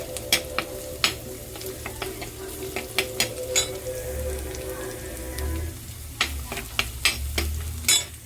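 Ginger, garlic and onion fry in a pan, a steady low sizzle with repeated sharp scraping and stirring taps spread through the clip, no voices.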